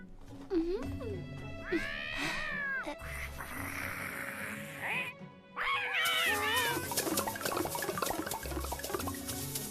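A cartoon cat meows in a drawn-out, wavering call, followed by more yowling caterwaul cries over background music and water-like noise in an animated series.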